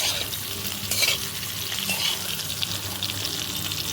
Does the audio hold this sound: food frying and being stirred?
yes